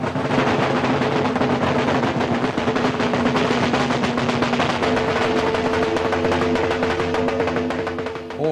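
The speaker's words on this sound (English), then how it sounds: "the drums are paraded through the car park of the local Orange Lodge" Lambeg drums at a drum competition in the car park of a local Orange Lodge, a dense, continuous loud rattling roll with sustained droning tones, heard close and unbroken throughout.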